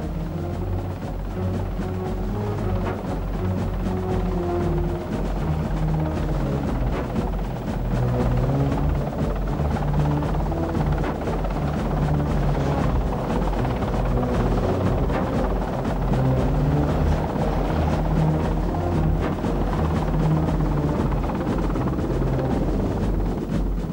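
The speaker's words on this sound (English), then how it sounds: "Specially designed Wessex helicopters would provide electronic surveillance of the area." A Wessex military helicopter flying, its rotor and turbine producing a steady, loud, continuous drone that holds constant throughout without pause.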